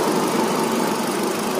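A Hyundai i10 sedan's engine idling smoothly, heard close up with the hood open as a steady, even hum and a light mechanical rattle that holds level throughout.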